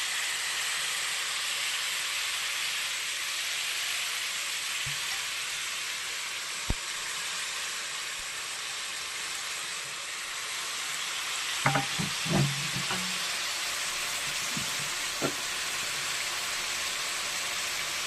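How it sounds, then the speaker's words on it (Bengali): Banana flower (thor) frying in a pan gives a steady, close sizzle and hiss throughout, broken by a few sharp clinks and stirring knocks near the end; no one speaks. "দেখতে থাকুন থোর ভাজাটা কিরম ভাজবে।"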